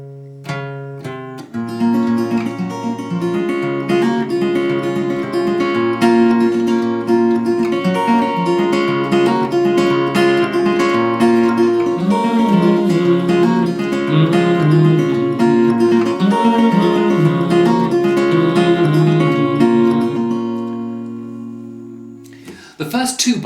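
Acoustic guitar plays the intro of a song, a continuous run of picked notes and ringing chords, close and clear, with no voice over it.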